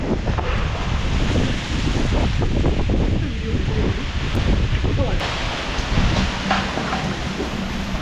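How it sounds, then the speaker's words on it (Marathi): Strong wind gusts across an open embankment in the Konkan countryside during rainy weather, a loud, constant roaring buffet against the microphone, with people talking underneath. "वारा पण जाम सुटलाय"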